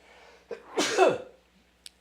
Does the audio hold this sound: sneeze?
yes